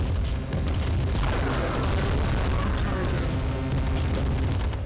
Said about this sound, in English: Alright, the ion cannon's good to go. Select target.